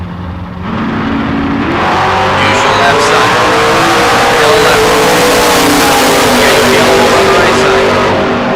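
Camaro drag cars, including an '82 Camaro, accelerate at a bracket race, engines rising into a loud sustained roar with climbing revs, crowd and track ambience mixed in throughout.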